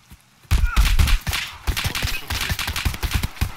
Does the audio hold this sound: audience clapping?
no